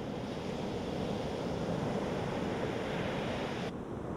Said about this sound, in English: Just being at the beach and everything